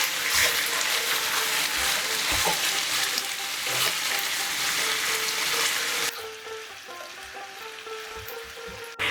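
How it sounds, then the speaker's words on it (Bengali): Chicken pieces being fried over medium-high heat in a pan for chicken korma sizzle loudly and steadily, with some stirring scrapes, then the frying quietens noticeably toward the end. "মিডিয়াম টু হাই ফ্লেমে আমি চিকেনটাকে একটু 2 মিনিট কষে নেব।"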